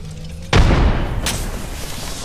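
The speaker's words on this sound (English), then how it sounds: "Throwing grenade." A grenade blast in the video game Apex Legends: one loud, near boom that hits suddenly and rolls into a rumbling tail, with a second sharp burst shortly after over a continuous game background.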